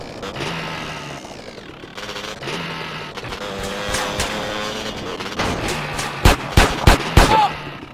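Video game gunfire in GTA San Andreas Definitive Edition: a run of sharp, loud shots near the end, after a busy stretch of game sounds and engine noise.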